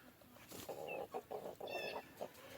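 A black chicken and other fowl on a homestead cluck in short, rhythmic bursts close to the microphone, with a brief higher squawk mixed in and no talking.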